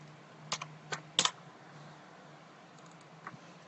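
Sharp computer keyboard key presses from a pharmacy system application demo, a few separate clicks with one quick double tap near the middle, then a faint later tap, fairly close over low background hum.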